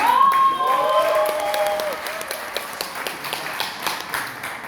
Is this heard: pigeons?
no